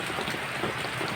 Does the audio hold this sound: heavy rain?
yes